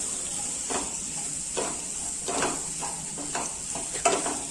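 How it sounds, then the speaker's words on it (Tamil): Okra (bhindi) roasts in a pan for a North Indian-style gravy, giving off a constant bright sizzle and hiss, broken by regular scraping stirs of a spoon about every second, close and clear with no talking. "லைட்டா ஒரு 5 மினிட்ஸ் ஆவது இதை நல்லா ரோஸ்ட் பண்ணலாம்"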